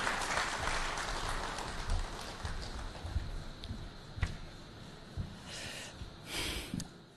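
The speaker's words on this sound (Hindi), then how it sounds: "तालियों से स्वागत करें अखिलेश यादव जी" A crowd at a political campaign event gives applause to welcome a politician to the stage, fairly faint and uneven clapping that fades and swells, with a few sharper knocks and bumps among it.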